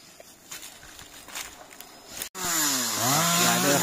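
A chainsaw starts up and revs loudly while felling a tall old coconut tree, its harmonic engine whine rising and bending after a stretch of quieter outdoor noise.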